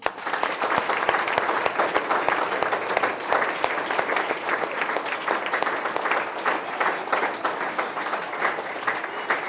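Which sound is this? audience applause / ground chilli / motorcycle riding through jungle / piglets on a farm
audience applause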